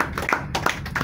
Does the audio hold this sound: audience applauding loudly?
yes